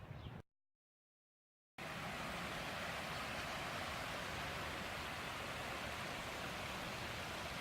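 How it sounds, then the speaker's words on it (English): A babbling brook on the Bruce Trail gives a steady, close rush of flowing water after a short gap of silence, with no voices. "Nice babbling brook."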